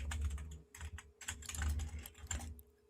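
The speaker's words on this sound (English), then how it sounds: "I was typing something." Typing on a computer keyboard: a quick, uneven run of soft close key clicks over a faint background hum, with short pauses between bursts and no speech.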